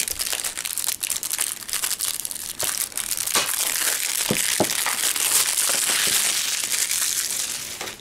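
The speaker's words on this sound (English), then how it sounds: "crinkling plastic, yay!" Plastic packaging on a Yoshi's Woolly World amiibo bundle crinkles and crunches steadily and close up during unboxing, with sharp crackling bursts throughout and no talking.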